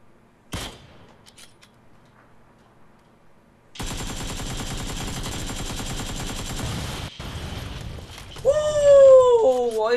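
Sustained rapid automatic fire from an AK rifle in a console shooter game, a dense steady burst of several seconds after a single early shot, followed by sharp chirping effects.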